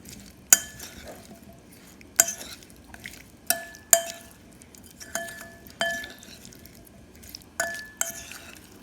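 Tomatoes being stirred and tossed to coat them in a dish, with sharp clinks of a utensil against the container at irregular intervals over a quiet background.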